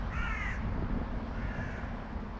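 Crows caw outdoors at an evening bird feeding spot, one near harsh call followed by a fainter caw a second later, over a low steady background rumble.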